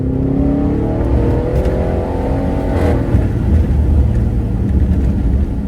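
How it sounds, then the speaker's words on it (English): An Audi A8L fitted with an upgraded TGK stabilizer bar kit accelerates hard on a test drive, its engine note rising steadily and loudly through the gears with strong tire and road rumble from inside the cabin. "the car's so fast it opened the glove compartment"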